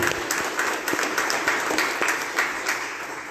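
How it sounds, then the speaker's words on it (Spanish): Dense, steady applause from a congregation at a Catholic Mass, a continuous patter of many hands clapping at moderate volume without pause. "le damos un fuerte aplauso"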